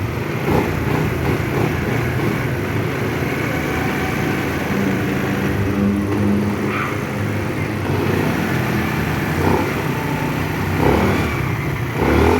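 A Rusi Adventure X 150 motor scooter engine, just restarted after breaking down, runs steadily and loudly up close, with an uneven idling putter and occasional throttle bumps.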